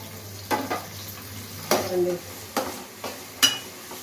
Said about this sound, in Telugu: వేగేటప్పుడే పచ్చిమిరపకాయలు, టమాటాలు కూడా వేయించుకోవాలి.